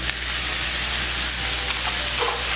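Pork and egg fried rice stir-fries over high heat, a loud, constant sizzle close up with faint scraping and tossing from the stirring, no voices.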